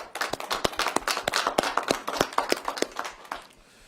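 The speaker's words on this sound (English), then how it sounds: "Let's give them a nice, warm round of applause." A modest round of applause at a Chicago mayoral media event, with a handful of distinct, fairly close claps in an uneven rhythm that thin out and fade near the end.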